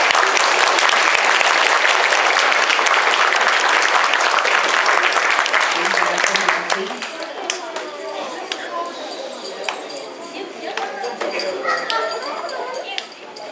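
An elementary school audience applauds first and second grade students at an end-of-year awards ceremony, a loud, dense burst of clapping that thins after several seconds into scattered claps, chatter and children's voices.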